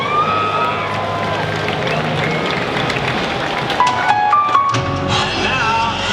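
A crowd of 56,000 cheering at Dodger Stadium during a pregame ceremony, a dense, steady roar of voices with scattered whistles and shouts rising over the noise, loud and continuous.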